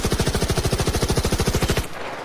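Rapid automatic gunfire from a weapon in the video game Arc Raiders, a steady loud stream of evenly spaced shots that stops abruptly near the end, leaving quiet background.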